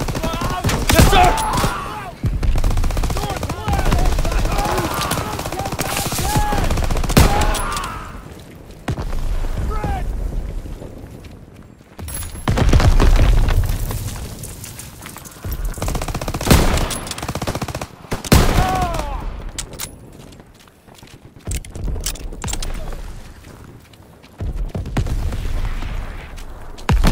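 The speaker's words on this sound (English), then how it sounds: "Artillery's hitting the beach." Artillery shells hitting Normandy beach in the game Call of Duty WWII, with loud repeated booms, bursts of gunfire and chaotic battle noise, interrupted by short quieter gaps.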